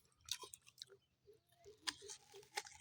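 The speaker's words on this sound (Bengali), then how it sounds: "আম খাচ্ছি" Someone eats a mango, sweet chini aam variety, with close, quiet, irregular wet chewing and biting sounds in short bursts, with no talking.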